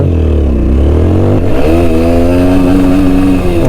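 Loud and close, a TVS Apache RTR 160 motorcycle revs hard in first gear, its engine note sweeping sharply upward after a brief dip, with no voices.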